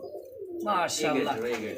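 Pigeons cooing at a market stall where pigeons are being sold, close murmuring coos mixed with someone speaking loudly nearby.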